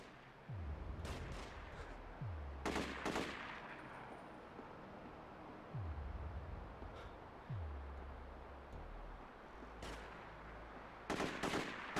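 Gunfire in The Getaway video game: sharp game gunshots at intervals with low booming tails, moderately loud over a steady background bed, no talk.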